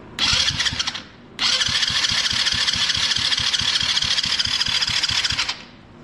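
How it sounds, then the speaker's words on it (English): A quad ATV engine is started: a short first burst that dies, then it fires up again and runs steadily at a fast, throbbing idle for several seconds before stopping. "Trying to get it to start without using any brake cleaner or anything."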